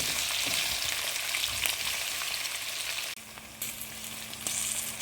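Onions sizzle steadily in hot oil in a pan for pumpkin curry, a dense crackling hiss. Partway through the tone shifts and a low steady hum joins in, with no one talking.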